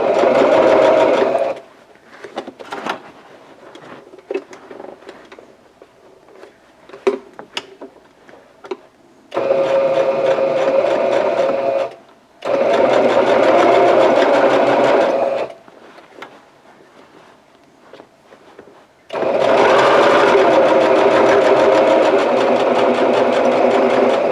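Sewing machine stitching a handbag gusset in three loud, fast-running bursts separated by quiet pauses with faint handling clicks while the fabric is repositioned.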